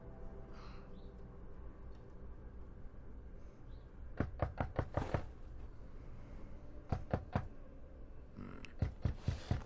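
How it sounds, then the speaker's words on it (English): Sharp knocks on a door in the game The Wolf Among Us come in quick clusters of four or five raps, followed by a pair and another short burst, each crisp and close against a quiet background. "Who could be knocking at this time?"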